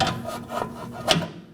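A new rear control arm for a 2017-2024 Nissan Armada slides into place, giving a close, soft rubbing scrape of metal with a few light knocks and a sharper contact near the end.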